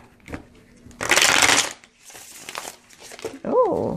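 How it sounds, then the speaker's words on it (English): A new Vivid Journey Tarot deck is riffle-shuffled in a loud, crisp burst of papery flutter, followed by softer card handling, while someone talks nearby. "just shuffle so beautifully"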